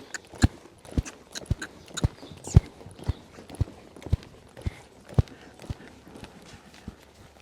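A horse's hooves thud on the ground in an even, repeating clip-clop as it moves off into a canter, a dozen or so clear, moderately close footfalls with faint background noise between them.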